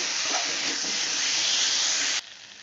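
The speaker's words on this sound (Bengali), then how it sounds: "এবার আমি এর মধ্যে হলুদ গুঁড়ো দিলাম লঙ্কা গুঁড়ো দিলাম আবারও ভালো করে কষাবো" Turmeric and chili powder sizzling as masala for a cauliflower, potato and katla fish curry is fried, a loud steady hiss close by that cuts off abruptly near the end.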